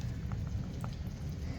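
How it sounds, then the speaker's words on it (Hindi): Light rain falling steadily outdoors, a soft continuous patter with a few faint distinct drops, no voices. "अब ये बारिश जो कंटिन्यूस कितनी देर से बरस रही थी"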